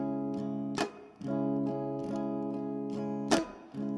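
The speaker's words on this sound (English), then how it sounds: "but this kind of muted strum." Muted strumming on a guitar, a steady pattern of held chords broken by sharp percussive muted scratches about every second, close and fairly quiet, with no talk.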